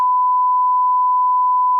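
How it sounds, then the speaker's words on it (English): A single steady censor beep, a pure, unwavering electronic tone, holds at constant loudness for nearly two seconds, cutting off cleanly with nothing else heard. "That beep's going to be a lot longer than most of them."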